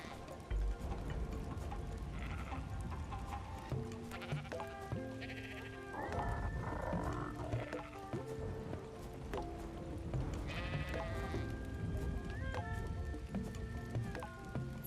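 Sheep bleating in the video game ARK Survival Ascended, several drawn-out wavering bleats repeating over about fifteen seconds at moderate volume, with faint game ambience and small clicks underneath.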